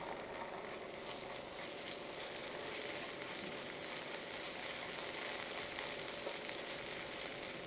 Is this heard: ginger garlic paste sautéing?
yes